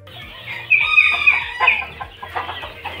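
Young turkey chicks in a poultry farm pen, calling close by in a continuous chorus of high, piping cheeps over a low background hum.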